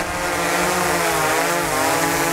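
A DJI Mavic 3 drone hovering close during landing, its propellers giving a loud, steady whining buzz with slight pitch wavering throughout.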